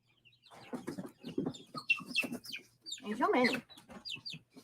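Several chickens cluck and murmur close by in short, irregular bursts among ducks, with a person briefly speaking among them.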